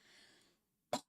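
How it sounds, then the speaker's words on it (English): A man's single sharp cough bursts out close and loud after a faint stretch of low background hum, then cuts off. "Sorry, coughing."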